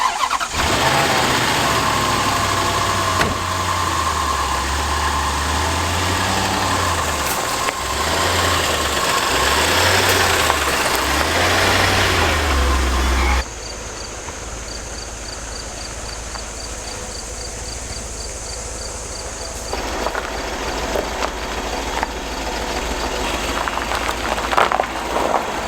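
A cheap, neglected Land Rover LR4 cranks and fires up, its engine settling into a loud, rough idle with a steady low rumble and slight rhythmic surging, then continuing more evenly as the surroundings change.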